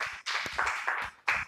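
A church congregation claps loudly in bursts, a few seconds of applause that swells, dips briefly and rises again, with no talk over it.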